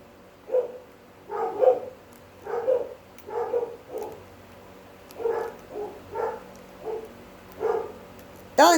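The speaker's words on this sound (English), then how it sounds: "Never mind the dog barking in the background." A dog barks repeatedly in the background, about a dozen mid-pitched woofs in an irregular rhythm, moderately loud against an otherwise quiet room.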